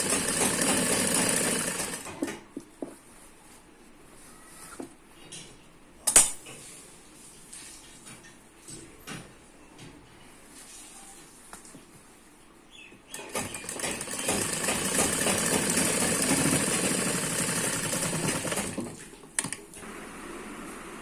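A sewing machine stitches a frock collar in a short opening run, followed by quiet clicks and handling of fabric, then a second steady stitching burst near the end.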